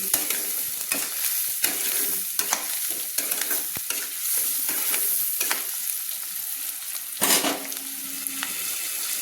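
Bay leaf, potatoes and onions stirred and scraped in a frying pan, a steady close sizzle broken by repeated scraping strokes and a few louder clanks, with no voices.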